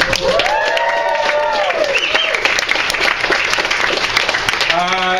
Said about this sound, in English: please show your solidarity by applauding for Comrade Levitan